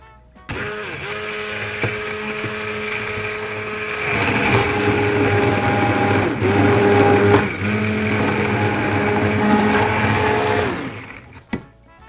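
A blender purees lentil soup in a home kitchen, its motor whirring loud and steady, deepening in load midway and cutting off near the end with a short clunk.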